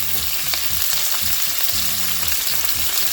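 High-protein meatballs browning in a frying pan: a dense, close crackling sizzle with rapid popping bursts of oil, loud and unbroken, with no talking.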